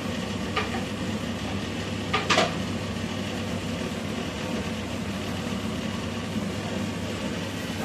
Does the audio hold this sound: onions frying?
yes